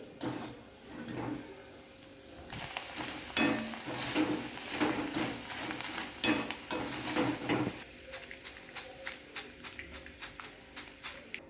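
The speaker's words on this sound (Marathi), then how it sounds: "हे मक्का पोह्या मी आता तळून घेते" Corn poha deep-fries in hot oil with bursts of bubbling and stirring, then settles into a quieter run of light, rapid crackling ticks, close by.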